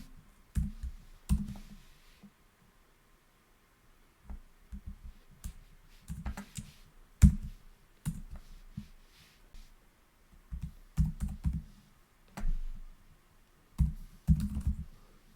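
Typing on a computer keyboard while writing a Bash script in the Vim editor, coming in short clustered bursts of clicks separated by pauses, close and fairly quiet.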